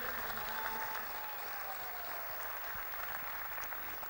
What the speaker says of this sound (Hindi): एक जोरदार ताली हो जाए दोस्त के लिए, मिस्टर पंकज टिटोरिया जी के लिए